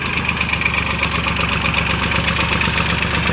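A vehicle engine, with the vehicle stuck in mud in a field, runs loud and close with a steady, throbbing, slightly knocking rumble that holds an even level throughout.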